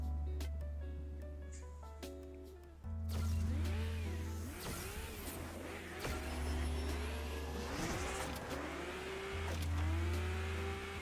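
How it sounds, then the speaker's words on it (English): A motorbike blazes past in a racing video game, its engine pitch sweeping up and down in repeated swoops over a steady car engine drone, loud and close, no talk. "There's somebody in a motorbike, like, blazing past my town over there"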